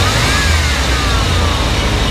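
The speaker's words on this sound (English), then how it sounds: "Go ahead and rev it up just a little bit." A 1994 Chevrolet C2500 pickup with a 350 V8 engine revving lightly, a loud, close, steady drone with a slight rise in pitch and no talk.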